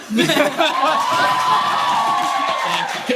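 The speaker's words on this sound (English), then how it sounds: "we're going to do a round of applause for who won" A live comedy show audience at a Wizarding World Bachelor-style game roars with cheering, whoops and shouts, a loud continuous crowd swell that holds steady for a few seconds.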